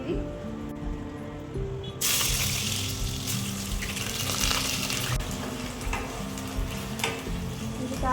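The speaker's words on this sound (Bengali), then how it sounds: "আলুটা ভাজা হবে।" Potatoes frying in hot oil in a home kitchen pan, a steady loud sizzle that jumps up sharply as they go in, with scraping stir noises over it and no talk.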